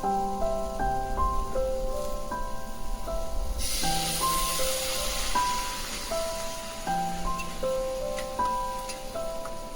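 Spices (turmeric, chilli, cumin and coriander powder) sizzle in a pan as a little water is added while cooking ghugni. A steady hiss runs throughout and swells louder after a few seconds, with music playing over it.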